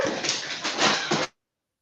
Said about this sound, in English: his dogs are being loud